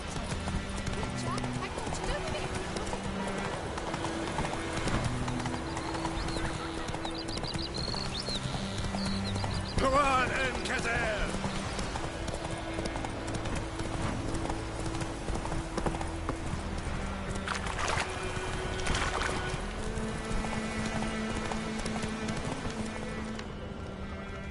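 Roach the horse galloping in the video game The Witcher 3, a steady clip-clop of hooves at running pace, with occasional neighs and a voice talking over music.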